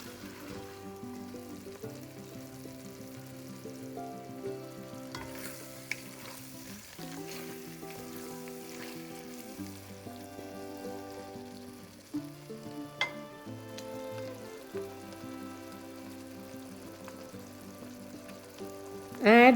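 Chopped tomatoes frying and stirred in a pot for chicken curry, a gentle continuous sizzle with occasional spoon scrapes and clinks, faint under background music.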